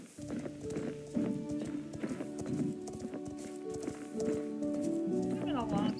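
Rhythmic clip-clop of horse hooves in the Star Stable video game, steady and fairly loud, with a short whinny near the end and a voice talking over it.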